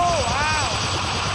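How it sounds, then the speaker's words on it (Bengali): A helicopter in a video game thrums loud and close with a continuous rotor drone, while a voice talks over it and a brief tonal sweep rises and falls. "হেলিকপ্টার"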